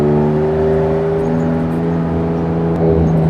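A lightweight Porsche 911 cruises at about 60 mph with a steady, droning engine note and road whir heard from inside, rising slightly near the end.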